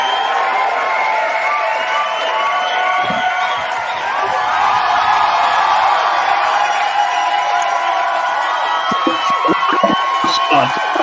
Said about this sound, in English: I just can't hear through the applause